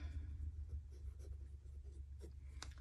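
A pen scratches across paper in soft, irregular handwriting strokes over a steady low background hum, with no talking.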